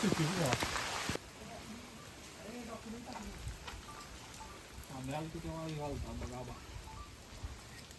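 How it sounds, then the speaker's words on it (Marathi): Rain starting to fall at a hill-fort gateway on a trek, a steady light patter of drops under someone talking. "हे पाऊस सुरू झालेला आहे"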